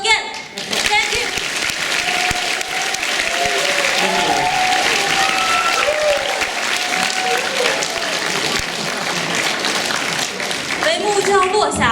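A concert audience at a Beijing school gives a band a long, loud round of applause, dense clapping sustained throughout with voices and a faint tone over it.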